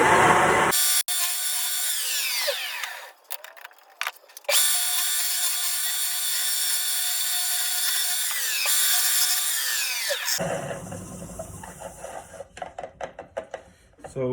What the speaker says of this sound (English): I hollow away a lot of the meat of the tenon